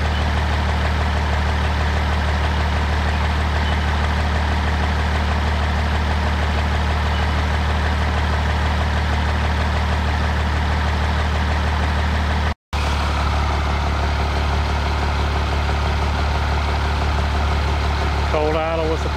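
Cummins 12-valve diesel truck with a VE pump and brand-new PowerJet injectors idling cold, a steady low rumble running continuously and close, with a brief dropout partway through.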